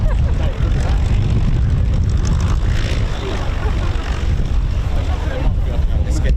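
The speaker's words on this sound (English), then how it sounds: "It is Currie What, which is another home-built aeroplane." A Currie Wot, a small home-built propeller aeroplane, flies at an airshow, its steady engine drone loud and continuous throughout with crowd noise mixed in.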